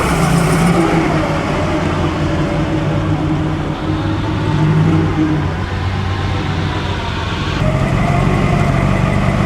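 A classic SS Jaguar engine runs loud and close at a concours event by a lakeside hotel villa, a continuous mid-pitched rumble with slight swells of revving as the car arrives.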